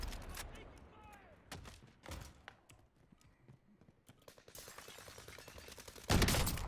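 Video game gunfire rings out in sharp, scattered shots and short bursts, some close and loud and others more distant, building to a heavy burst at the end, with no voices.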